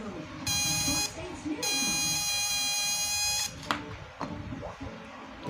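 A homemade PAC fish stunner inverter built with IRF3205 MOSFETs gives a loud, high electronic buzz in two long bursts. Afterwards come clicks and handling noises, and a voice speaks faintly underneath.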